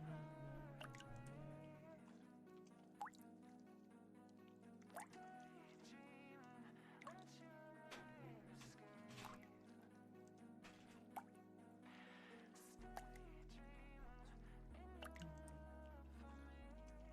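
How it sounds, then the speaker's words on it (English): Steady water dripping plinks in the background, soft repeated drops under a game's music. "Hear this dripping in the background."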